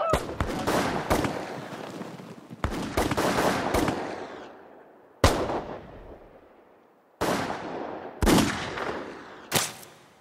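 A firing squad discharges rifles in several sharp, loud volleys, each crack followed by a decaying echo, with pauses between the bursts.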